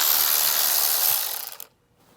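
A ratchet wrench loosens the coolant drain plug on a BMW M60B44 V8 engine block, a rapid, close clicking run that fades into a few separate clicks before going quiet.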